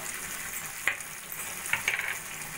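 Paneer sizzles in a pan as tomato sauce and Kashmiri chilli powder go in, a soft continuous frying hiss broken by a few brief scraping clinks of stirring.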